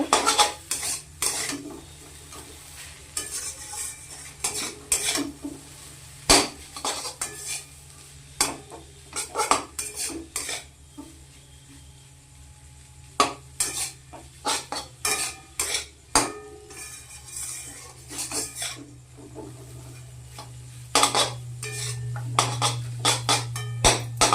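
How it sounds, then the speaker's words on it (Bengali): A utensil stirs chow mein with ketchup in a pan, giving repeated irregular metallic clanks and scrapes over a faint sizzle, close and alone. "এরপর আমি দিয়ে দিব কেচাপ দিয়ে ভালো করে মিশিয়ে দিব"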